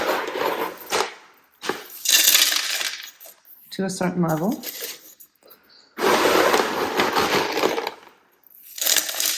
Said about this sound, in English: fill this glass up with pumice